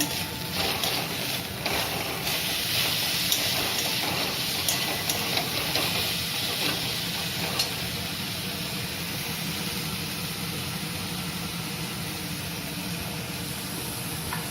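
Chopped tomatoes sizzle in a hot pan with potatoes and spices, a loud, steady hiss close by with a few soft stirring clicks early on and no voices.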